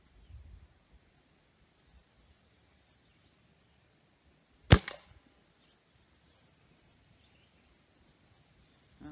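A Stoeger A30 air rifle fires a Gamo Match pellet, one sharp crisp crack near the microphone in an otherwise quiet outdoor setting with faint rustling.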